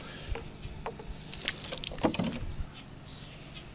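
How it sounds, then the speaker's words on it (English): A bolt with a patina finish is rinsed under running water, a soft splashing and trickling wash that swells in the middle, with a few faint drips and light clinks close by. "or you can simply rinse it with water"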